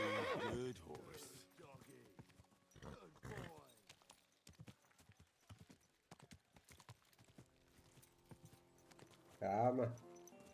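Horse in the Kingdom Come 2 video game whinnies and neighs loudly near the start, then hooves clip-clop in an uneven series of close, sharp steps, with another loud neigh near the end; someone speaks briefly over it.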